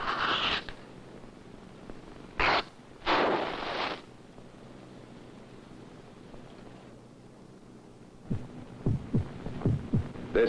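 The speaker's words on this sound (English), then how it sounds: "This is the sound of heart." A human heartbeat thumps in steady, throbbing pulses over a low hum, with a few louder broadband bursts early on and a quicker run of beats near the end; no one speaks.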